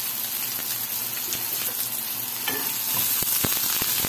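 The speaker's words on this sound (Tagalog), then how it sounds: "Igisa lang natin sila." Garlic and onion sauté together in a hot pan for Filipino pancit, giving a steady, close sizzle and crackle with occasional stirring scrapes and no talk.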